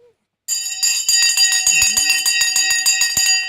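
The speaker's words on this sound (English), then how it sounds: "The bell is now gone, and we are just now 3 o'clock." Stock market closing bell rings loud and close in a rapid, steady run of clangs that lasts several seconds, with a voice speaking under it.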